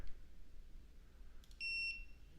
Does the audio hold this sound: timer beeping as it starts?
yes